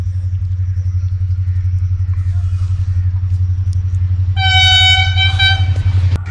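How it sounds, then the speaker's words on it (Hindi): The Pakistan Express passenger train approaches at Jhimpir on Pakistan Railways, on its run from Karachi to Rawalpindi, with a loud, continuous low rumble. A sustained horn blast sounds near the end. "अब पाकिस्तान एक्सप्रेस आ रही है GU40 9024 के साथ कराची से निकल के रावलपिंडी के लिए।"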